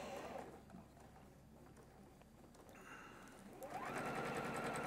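A sewing machine stitches quilt star pieces in quiet, rapid bursts, its whirring hum starting and stopping close by, with no talking.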